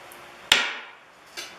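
A hammer drives a Brazeal-style eye punch into a steel billet for a forged rounding hammer: one loud, sharp metallic strike with a ringing decay, then a second, softer blow about a second later, with no talk.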